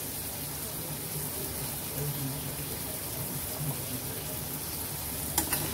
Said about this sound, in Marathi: आणि हे छान परतून घेऊया